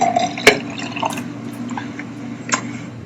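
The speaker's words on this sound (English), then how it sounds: "Now we're going to pour this juice into this glass." Juice trickles into a glass in quiet indoor surroundings, a soft liquid pour marked by a few sharp drip-like plops and splashes, close by and fairly gentle, with no talking.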